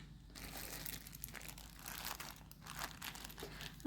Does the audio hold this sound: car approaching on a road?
no